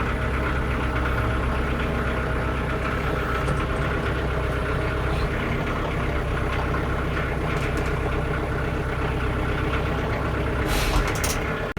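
A tractor engine idles steadily with the parking brake off, heard from inside the cab as a continuous low rumble with a rhythmic knocking pulse, loud and constant throughout.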